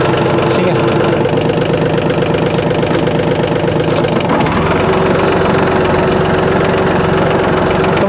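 A Mahindra OJA 2127 tractor engine runs in low creeper gear, a loud, steady, close idle-like chug with a constant rumble that shifts slightly in tone partway through.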